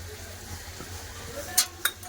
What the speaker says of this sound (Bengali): এবার মশলার সাথে আলুটা ভালো করে কষে নেবো